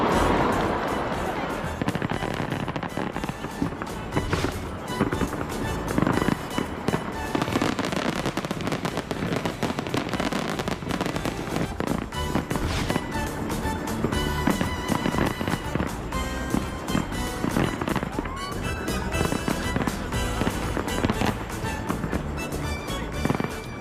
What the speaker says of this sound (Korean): 이 서울 불꽃 축제, 저희가 하이라이트로 불꽃 축제 영상만 다시 모아봤습니다